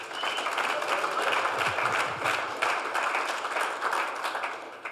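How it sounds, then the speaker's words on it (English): Audience at a company team meeting for a commercial roofing firm applauding, a steady wash of many hands clapping at moderate distance, sustained for several seconds with no talk over it. "Give him a round of applause, by the way."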